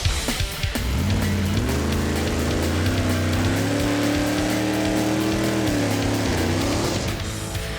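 A Vega drag racing car roars down the strip at full throttle, loud and sustained, its engine note climbing in pitch through the gears before easing near the end.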